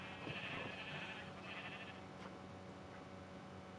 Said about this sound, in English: a farm area where we got a sheep